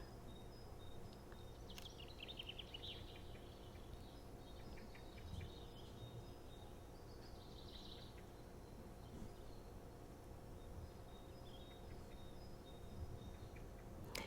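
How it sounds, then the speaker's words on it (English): Birds sing faintly in an old-growth forest near Hoodsport, Washington: a few scattered high chirps and short trills stand out against a quiet, steady ambient hush, with no talking. "You'll hear some birds."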